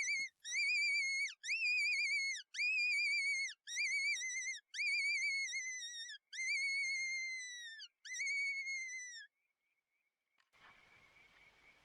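A hand-held predator call whistle blown to lure a fox at night on rural farmland, giving about eight loud, shrill, wavering squeals in quick succession, each with a drooping pitch, before falling silent with faint rustling at the end.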